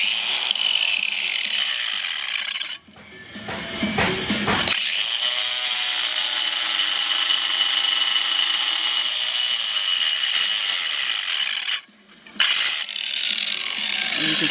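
A Craftsman CMCG400M1 cordless angle grinder cuts through tile, a loud high whine sustained for several seconds at a time, briefly stopping twice before resuming, close and without speech.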